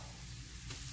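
Garlic sizzles in hot oil in a pan, a steady close frying hiss with a faint stir near the end.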